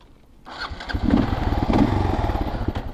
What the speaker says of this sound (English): Fire up the old KLR again and finish our ride.